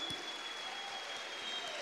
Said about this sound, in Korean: Palmas ao Senhor.